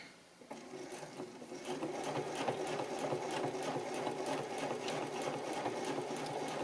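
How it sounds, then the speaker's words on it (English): A sewing machine stitches steadily during free motion quilting, starting up and then running in a fast, even rhythmic patter, close and moderately quiet. "I place my hands like this whenever I free motion quilt"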